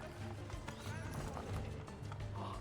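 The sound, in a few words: horse galloping in the video game Assassin's Creed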